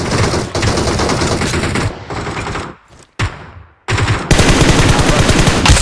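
Automatic gunfire in the mobile battle royale game BGMI, loud rapid bursts of shots that stop briefly and then resume as a sustained close barrage, with no talking.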